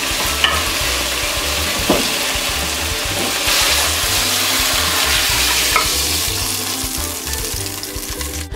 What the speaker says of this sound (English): So I'm just gonna pull this off into a bowl and then we'll be ready for our next step.